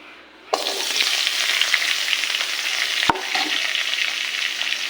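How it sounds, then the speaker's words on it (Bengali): Cut potatoes hit leftover fish-frying oil in a wok and burst into a loud, continuous sizzle that keeps crackling steadily, with a light clatter of stirring partway through. "এভাবে কিছু সময় আলুগুলো ভেজে নেব।"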